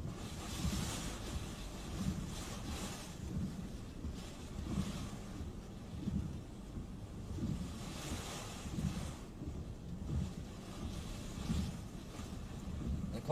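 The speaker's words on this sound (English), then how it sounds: "There's a good gust." Wind gusting against a camper, a steady low roar with rising and falling surges that rumble through the whole clip, fairly quiet overall and with no voices.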